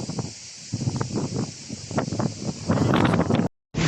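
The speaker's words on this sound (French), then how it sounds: "Il fait un vent à décorner des bœufs." Strong wind gusts in the Gard region of southern France buffet the microphone in uneven, rustling bursts that build louder toward the end before cutting off abruptly.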